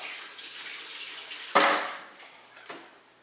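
Kitchen tap running water to rinse food, a steady hiss that bursts louder as the flow hits, then tapers off, close with no talking.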